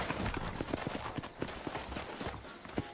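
Horse hooves clip-clop steadily in Red Dead Redemption, a rhythmic run of close, distinct hoof strikes over a busy game soundscape set in New York.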